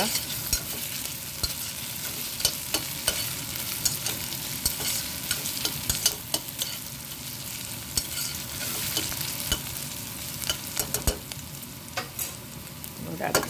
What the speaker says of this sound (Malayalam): ഈ ഒനിയൻ്റെ കൂടെ ഒരു അര ടീസ്പൂൺ ജിഞ്ചർ ചെറുതായിട്ട് അരിഞ്ഞത് ഫൈനലി ചോപ്പ് അതുകൂടി ഇട്ടു ഇളക്കി കൊടുക്കുക